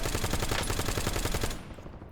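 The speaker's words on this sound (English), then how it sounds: "I'll, like, spam my trigger, and it won't fire very fast" Rapid automatic gunfire from a video game weapon, a dense, evenly paced burst of close shots that stops abruptly near the end, with no talking over it.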